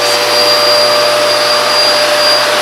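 A Hoover vacuum cleaner runs at full power in a house, a loud, steady, close whine and roar with a high tonal hum and no voices.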